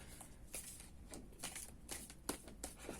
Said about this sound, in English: let's give these a good shuffle as well